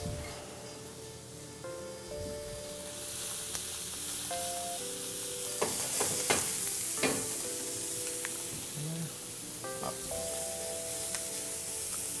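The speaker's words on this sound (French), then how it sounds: "On va rajouter nos oignons." Onions going into a hot pan and being stirred, with steady frying sizzle and scraping clinks of the spoon; a brown stock is about to be added with a sprig of thyme. Close and continuous, with no talk.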